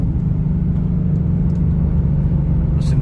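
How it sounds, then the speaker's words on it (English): Engine of a new, barely broken-in car heard from inside: a loud, steady low rumble that holds evenly throughout, with no voices over it. "Listen to that downshifting, man."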